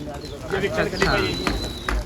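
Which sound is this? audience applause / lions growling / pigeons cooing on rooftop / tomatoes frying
pigeons cooing on rooftop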